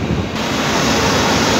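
A running cooling tower with water pouring and splashing continuously, a loud, steady broadband rush like heavy surf close to the microphone, with no voices.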